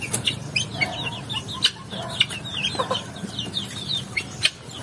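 Native chickens on a farm cluck and chirp in quick, overlapping bursts, a busy flock close by with no talking.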